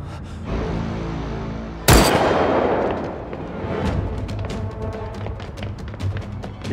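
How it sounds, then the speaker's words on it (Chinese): A single sharp gunshot cracks out in a tense crime drama scene, loud and abrupt, then fades into a decaying echo followed by faint tapping and clicks. "有枪声"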